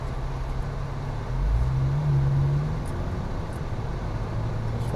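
A Porsche Cayman R moves off in drive, a low steady engine hum with a brief rise in note as it pulls away, heard from inside with no talk.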